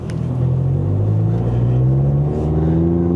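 A Mercedes-Benz C180 AMG Line (W205) pulls away from a stop in Comfort mode, its engine a steady, loud, close rumble whose pitch climbs smoothly as it accelerates, with no talk over it.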